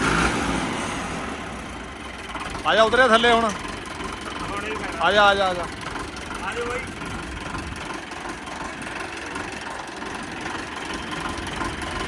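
A Massey tractor idles with a constant low mechanical hum throughout while a man calls out several short shouted phrases over it, then the engine carries on alone.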